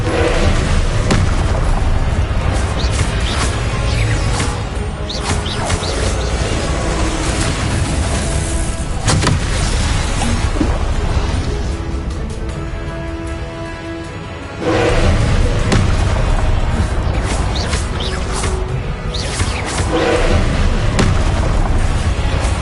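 Loud, booming blasting-spell explosions from Hogwarts Legacy, Confringo cast again and again, crash one after another in a dense, nearly continuous barrage with deep rumbling thumps, briefly easing before surging back.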